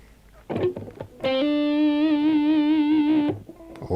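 An electric guitar plays through distortion and sounds one thick, sustained note with a slight wavering pitch from the whammy bar. A few short plucks come before it, and nothing else is heard.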